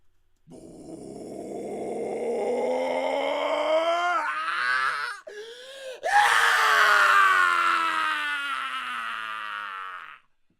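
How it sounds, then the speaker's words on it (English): A long, harsh scream rises and strains, breaks off briefly, then returns loud and sustained before fading out. "Just a small scream, right?"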